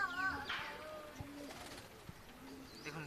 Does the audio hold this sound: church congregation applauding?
no